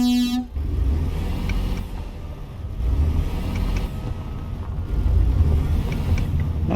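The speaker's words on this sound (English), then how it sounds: "Well, the stock trucks have good horns now. Well, that's the loud horn." Loud stock truck horn blares from a truck in American Truck Simulator, a short steady harmonic blast at the very start, cut off within half a second, followed by rumbling engine and road noise.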